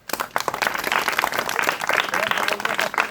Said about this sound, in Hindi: बैठ के ताली बजा दो एक बार